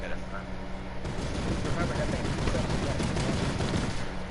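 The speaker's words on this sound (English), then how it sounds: "He uses his mounted turret to start unleashing hell upon the enemy." A mounted turret in Fortnite fires a sustained, loud barrage of heavy rapid shots that begins after about a second and keeps going, with voices talking underneath.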